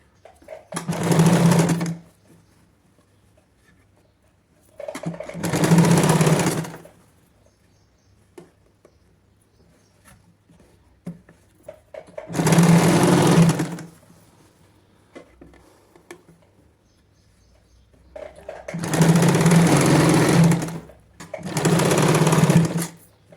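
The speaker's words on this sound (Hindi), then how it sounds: "कॉलर को इस तरह से पलटना है और इस तरह से इसके ऊपर सिलाई लगा देनी है।" Sewing machine stitching the collar of a kids' frock made from leftover fabric: five loud, close bursts of rapid whirring stitching, each one to two seconds long, separated by quiet pauses.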